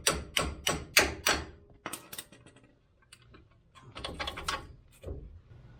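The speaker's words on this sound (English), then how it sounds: "just tapping it out right now" A hammer taps out a ball joint on a Toyota Tacoma control arm. There is a quick series of four or five sharp metallic strikes, a pause, then another cluster of close, ringing hits.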